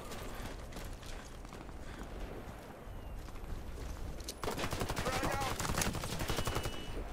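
Rapid automatic fire from an M4 submachine gun in the shooter game Warface, dense bursts of gunfire throughout that grow louder and busier in the second half, with faint talk underneath.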